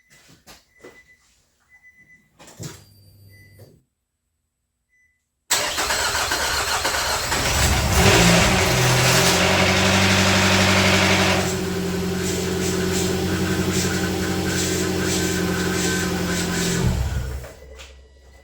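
A few clicks and brief whirs, a pause, then a 2005 Nissan Altima engine cranks and catches, revving up before settling into a steady close idle that cuts off near the end.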